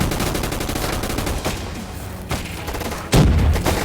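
Gunfire in a video game gun fight arena: rapid bursts of automatic shots crackle continuously, with a louder, closer volley near the end and no speech over it.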